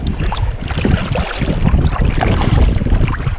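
Wind buffets the microphone and waves slap against a kayak out on Bala Lake, a loud, close, continuous churning with uneven gusts.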